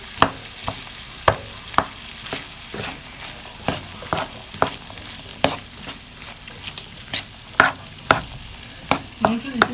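Carrots sauté in a pan for Cantonese-style rice, a soft steady sizzle broken by regular sharp scrapes and taps of a utensil stirring, close and alone.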